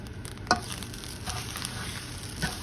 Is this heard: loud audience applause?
no